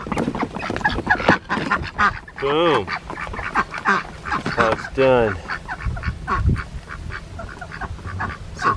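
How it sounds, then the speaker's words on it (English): Ducks released from their pen at a home ranch let out loud, raspy honking quacks in a few bursts near by, mixed with someone talking briefly over them. "Some happy ducks."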